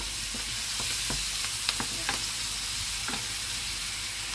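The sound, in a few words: sautéing onion, tomato and chili in a pan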